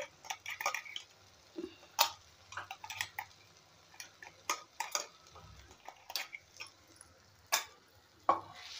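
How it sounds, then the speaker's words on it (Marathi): Green chilli paste being sautéed in a pan for a Marathi pithla, with soft sizzling under repeated light ticks and scrapes of a spoon stirring against the pan, quiet and close. "आता कच्चपणा जाईपर्यंत आपल्याला हे परतून घ्यायचं आहे."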